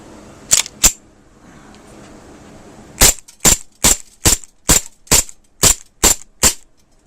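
Aftermath M9 gas blowback airsoft pistol fires on a green gas magazine: two sharp cracks, a pause, then eight evenly spaced snappy shots with slide clacks, close and loud.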